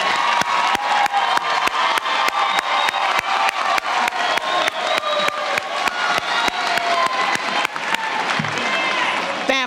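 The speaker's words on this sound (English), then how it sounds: "seniors, please honor your families by giving them a round of applause" A large crowd at a high school commencement claps for the graduates' families, loud sustained applause with a regular rhythmic thump running through it and cheers and whoops rising over the clapping.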